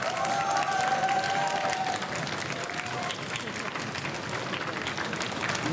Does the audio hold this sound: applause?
yes